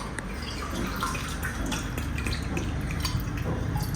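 Water for tea runs and splashes steadily into a vessel, a continuous trickling pour with faint drips and clinks.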